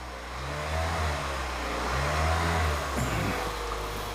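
A hybrid car's engine starts up and revs briefly as the accelerator pedal is pressed. It is a moderate, rising and falling engine drone with low humming tones that lasts a few seconds, with no voices.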